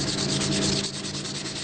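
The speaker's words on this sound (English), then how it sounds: "This is also the stage where the edge of the blade is formed." A steel knife blade edge being ground and polished, a continuous close abrasive rubbing hiss with a faint pulsing rhythm, alone without talk.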